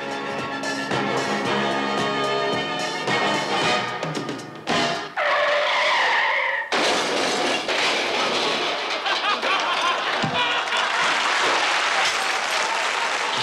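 Applause rises from a television studio audience for lip-sync performers. The loud, dense clapping is broken briefly by a tonal swell before the crowd noise resumes and carries on.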